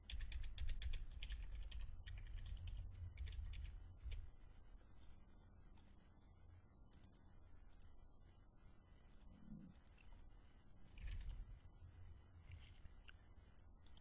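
Soft, irregular key clicks from a computer keyboard as fictitious card details are typed in at an online checkout. The tapping is faint and close, in short bursts over a quiet room background.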